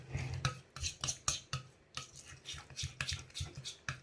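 A pumpkin pie playdough mixture being stirred in a bowl, a run of close, rhythmic clinks and scrapes of a utensil against the container, about a dozen strokes, no talking.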